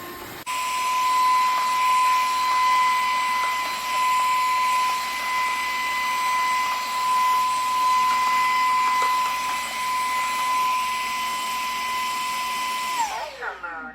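A Dreame H12 Pro cordless wet-dry floor vacuum runs steadily with a high, even motor whine that starts abruptly after a click and winds down at the end, close and constant.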